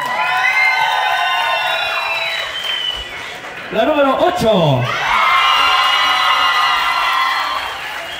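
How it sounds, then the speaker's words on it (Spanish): Audience applause and cheering rise around couples competing in a huapango dance contest with zapateado footwork, a lively crowd roar that dips briefly while an announcer's voice carries over it. "Vamos rápidamente, los aplausos a la pareja número uno."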